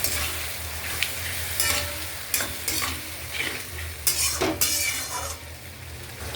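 Cashew, poppy seed and raisin paste thinned with a little water, stir-fried in a pan, a steady close sizzle broken by repeated scraping strokes and occasional clinks of the spoon against the metal.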